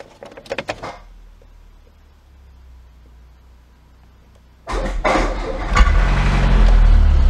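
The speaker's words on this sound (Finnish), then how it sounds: "Se hörähti käyntiin. Ekalla yrittämällä." A Citroën BX 16 GTi engine under restoration cranks and catches on the first try after a pause, following a brief cluster of clicks, then settles into a loud, steady rumbling idle close by.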